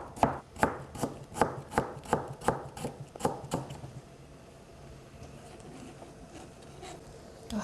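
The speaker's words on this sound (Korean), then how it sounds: "그 다음 배를 또 무와 똑같은 모양으로 얇게 썰어 놓습니다" A knife slices a pear thinly on a cutting board while North Korean-style vegan cold noodles are prepared, giving about ten crisp, evenly spaced chops in the first half before the cutting stops and only faint room noise remains.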